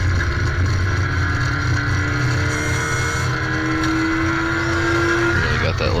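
A race car's small engine revs hard at Cedar Lake Speedway during a 75-mile endurance race, a loud sustained drone with a rising pitch, heard up close and steady throughout, with faint crowd or commentary mixed underneath.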